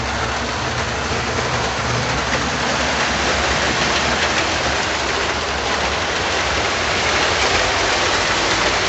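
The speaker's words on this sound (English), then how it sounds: "so here we go, starting the train." Lionel-scale model train cars, including budget Menards boxcars, running on a wide O42 loop of track, giving a steady broadband rumble and hiss throughout with no pauses.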